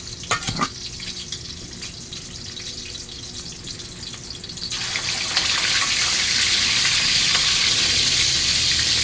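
Fish dropped into hot oil, the frying growing louder and denser about halfway through into a steady, crackling sizzle with sharp spattering pops, close by and continuous, with no talking.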